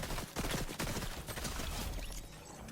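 Dense, loud gunfire in the video game Fortnite, a continuous rattle of overlapping shots with a few sharper cracks near the start, heard without talk.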